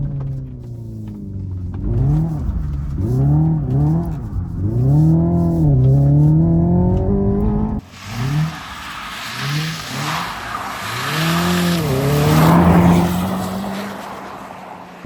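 A Hyundai electric car plays a simulated petrol engine note through its speakers, rising and falling in repeated revving sweeps like gear shifts, followed by a broad squeal of tires as the car drifts, loud and close.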